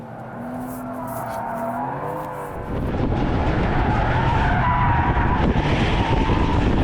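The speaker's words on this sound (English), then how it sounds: "Chris Harris is out here doing fourth gear slides at like 100. I can't quite swing that, but third gear at 60?" A Porsche 911 Turbo S T-Hybrid slides at speed, its tires squealing in wavering tones over engine drone, then a harsher, louder roar of rubber and engine takes over and holds to the end.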